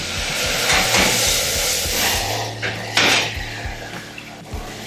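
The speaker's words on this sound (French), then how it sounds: "je flambe au calvados" A pan of duck trimmings is flambéed with calvados, a close, airy whoosh and hiss of flames mixed with clinking metal and scraping of a utensil against the pan.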